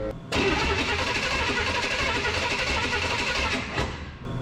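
The engine of a chassis-swapped 1953 pickup with throttle-body electronic ignition cranks steadily without catching, a loud continuous mechanical churn lasting several seconds before it stops.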